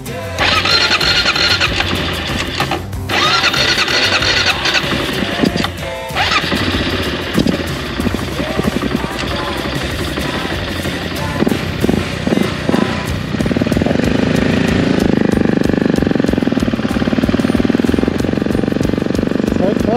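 An AJP PR7 motorcycle engine, freshly rebuilt after engine damage, starts and runs at idle, a loud continuous mechanical rumble with uneven revving throughout.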